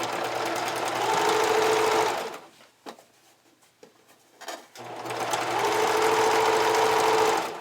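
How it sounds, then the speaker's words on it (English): A sewing machine zigzag-topstitches folded elastic trim on ruffled panties in two loud, sustained runs. A short pause with light handling taps separates them. "And now we fold the elastic under towards the wrong side and just top stitch with a zigzag stitch."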